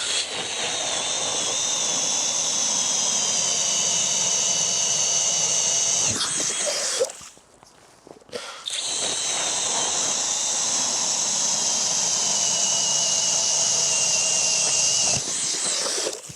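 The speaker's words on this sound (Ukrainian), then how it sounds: "давайте зараз спробуємо, як ці, ці ножі без всіляких маніпуляцій будуть бурити" A Chinese plastic auger blade drilling into ice, a loud continuous whining grind with a brief drop in the middle before it resumes at full strength.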